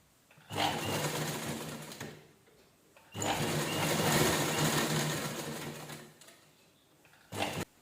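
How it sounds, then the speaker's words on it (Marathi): A sewing machine runs in two long bursts of steady, close, buzzing stitching as it sews around the edge of a folded towel, with a brief third burst at the end and short quiet gaps between. "एकसारखं धरून पूर्ण राऊंडला छान असं स्टिच करून घ्यायचं"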